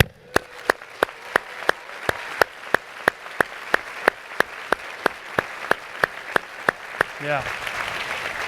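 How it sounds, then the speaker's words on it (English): A graduating class at a prize day ceremony gets a round of applause, heard as steady sharp rhythmic claps, roughly three per second, fairly close, ending with a brief spoken word. "to this class, you deserve a round of applause"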